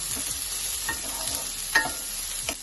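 Cashews, green chillies, garlic and ginger are stirred in a sizzling pan, with soft spoon scrapes and a few sharper knocks against the metal over a steady fry.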